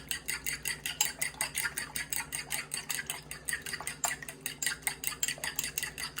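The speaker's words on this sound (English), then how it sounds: "You want to make sure the whites and the yolks are completely mixed." Eggs beaten hard in a bowl for an 18th-century scrambled egg dish, a fast, steady run of close metallic clicks and taps of whisk against the bowl, rhythmic and unbroken, with no talking.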